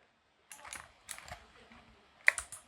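Keystrokes on a GTX 300 budget membrane gaming keyboard, soft close clatter in a few short bursts with gaps between them.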